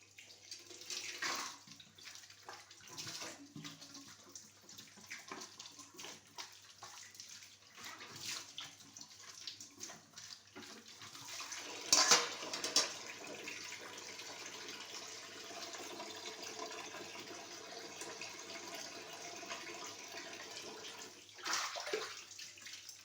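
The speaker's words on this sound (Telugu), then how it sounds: "ప్రస్తుతానికైతే కొన్ని పాత్రలు క్లీన్ చేసుకుంటున్నాను సింక్ దగ్గర" Dishes are washed by hand at a home kitchen sink, with running tap water splashing in uneven bursts and a few louder clatters and gushes partway through.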